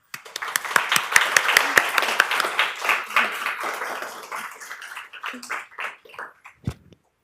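An audience at a museum talk applauds to welcome the speakers. The clapping is crisp and dense at first, then thins into scattered claps and fades out near the end.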